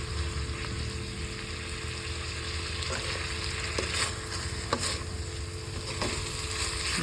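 Tomatoes sizzle in a pan as they cook down into a gravy, a steady soft frying hiss broken by a few quiet stirring clinks and pops.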